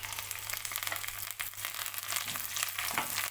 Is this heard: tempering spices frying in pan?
yes